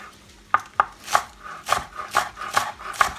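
A knife chops green onion stalks on a board with about seven sharp, close knocks at an uneven pace, each strike crisp and short.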